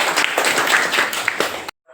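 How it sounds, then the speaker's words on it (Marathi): A group of schoolchildren at a 15 August school event claps together in congratulation. The close, bright claps come in a quick burst that ends abruptly in silence. "सगळ्या विद्यार्थ्यांचं तीन टाळ्या वाजून अभिनंदन करतो"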